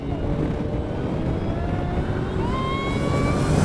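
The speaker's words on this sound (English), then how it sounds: "I hope you can hear the gunshot reports from the exhaust as well" An Ariel Atom 3.5R race car engine whines steadily at speed, rising in pitch as it accelerates, loud and continuous with a rough background roar.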